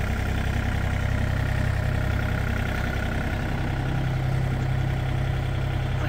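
A MACAO CT38 Pro compact tractor with a 27 kW Yanmar engine runs at idle, a steady low diesel rumble held close and constant throughout, with no talk.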